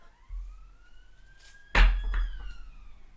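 Police car siren sweeping past outdoors, a rising wail that climbs and fades, followed by a loud low rumble and thump of the passing vehicle, with no talk.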